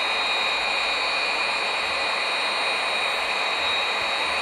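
An F-16 fighter jet engine in a flight simulator game, a loud continuous roar with a high whine, steady throughout with no talking.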